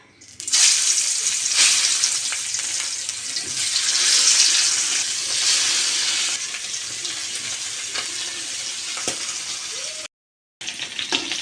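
Spiced fish frying in a pan, a steady close broadband sizzle with faint stirring clicks, holding throughout before a brief silent cut near the end.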